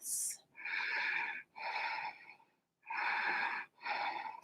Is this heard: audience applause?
no